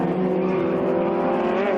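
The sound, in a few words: race cars racing through a corner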